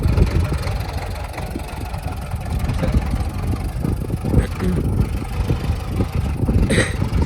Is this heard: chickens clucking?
no